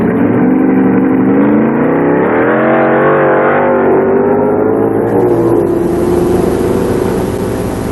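1970s Pro Stock drag race cars roar at full throttle, a loud sustained engine howl with pitch rising and shifting as they accelerate down the strip, dominating throughout.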